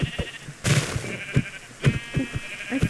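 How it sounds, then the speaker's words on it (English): Sheep bleat repeatedly in Minecraft while being struck, short loud game bleats arriving in a quick irregular series with soft hit sounds between them. "I'm out here killing sheep with this"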